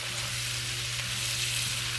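Beef fat frying and crisping in a pan, a steady dense sizzle that holds at even loudness throughout, close up, with a low constant hum underneath.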